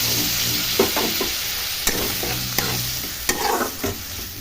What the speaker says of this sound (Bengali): ভালোভাবে মিশিয়ে সামান্য জল দিয়ে মশলাটা ভালোভাবে কষিয়ে নিব